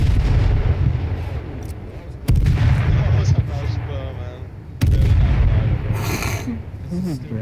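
A grenade blast in a shooter video game, with loud broadband bursts near 2.3 and 4.8 seconds over continuous gameplay noise and excited voices.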